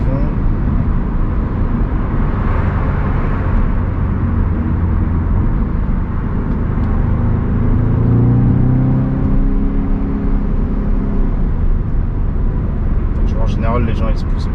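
An Audi S3 8V accelerating on the road, heard as a loud, steady engine and road roar with a rising harmonic sweep in the middle, then easing off near the end.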